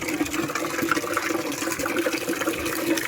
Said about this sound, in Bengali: ফার্স্টে আমি বাইরে জল ভরে নিই